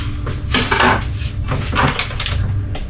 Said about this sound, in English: So I'm just going to slice these in half